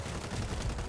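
Rapid machine gun fire from the zombie shooter World War Z, a continuous close burst of shots with no pauses.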